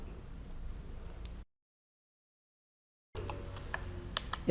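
Computer keyboard keys are pressed to type a filename while backing up firmware for a THAISAT RV-103 receiver, giving sparse, faint clicks close by in a quiet room with a short silent gap.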